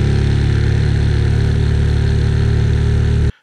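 A small boat's engine, throttled from the tiller extension, runs in a steady, loud, even drone with a low hum that holds for about three seconds and then cuts off abruptly.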